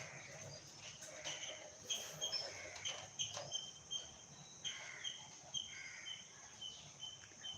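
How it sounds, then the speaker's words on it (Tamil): Faint, quick chirps of two sparrows fighting in a tree, in scattered bursts over a quiet morning outdoor background. "அழகாக ரெண்டு குருவி சண்டை போட்டுட்ருக்கு"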